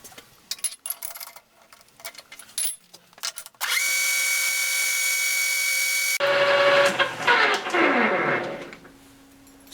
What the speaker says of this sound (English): Let's go to the lathe and start machining our bolt.